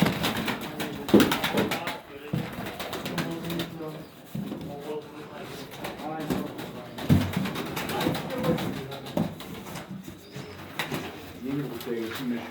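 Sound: birds, likely pigeons, calling

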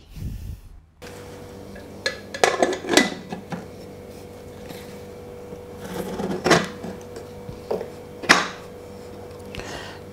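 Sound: pressure cooker lid being closed

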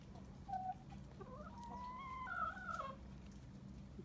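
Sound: rooster clucking

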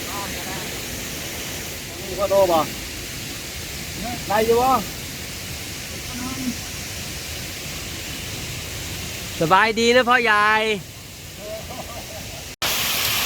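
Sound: small waterfall near a house

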